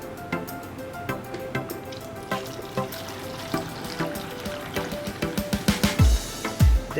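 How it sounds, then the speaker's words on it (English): Drinking water poured from a jar into a container during juice preparation, a close splashing trickle with a few louder gulping glugs toward the end. "I have a jar of drinking water, so I'm going to pour some here."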